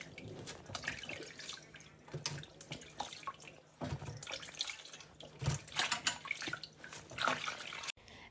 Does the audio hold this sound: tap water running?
yes